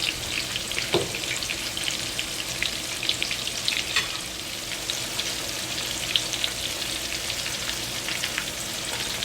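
Coconut and breadcrumb coated shrimp deep fry in oil over medium heat, a dense, loud, steady crackling sizzle with scattered sharper pops throughout.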